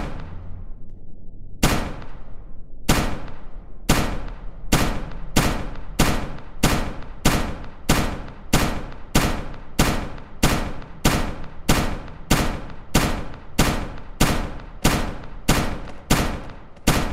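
Gunshots at a gun range ring out in a steady series of about fifteen loud, sharp reports roughly one second apart, each with a brief echoing tail, close by.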